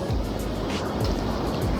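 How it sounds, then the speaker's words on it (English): Sea waves surging onto the shore at South Shields, a continuous broadband wash of surf with swelling and receding rushes, loud and close, alone without voices. "I love the waves."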